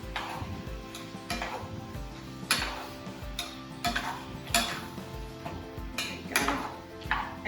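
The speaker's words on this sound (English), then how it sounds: "Stir that." Canned diced tomatoes stirred in a cooking pot, with a regular rhythm of spoon scrapes and clinks against the metal over a soft simmering sizzle, close and clear with no talking.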